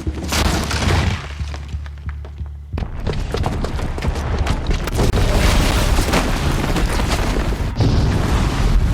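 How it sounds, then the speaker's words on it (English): A bomb's booby trap goes off in Horizon Zero Dawn: a loud, sustained explosion with crashing, shattering debris that briefly drops away, then erupts again and roars on without a break. "the booby trap on the bomb downstairs is gonna get set off"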